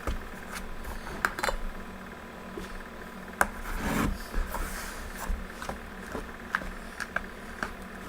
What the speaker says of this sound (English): So we're going to start stirring.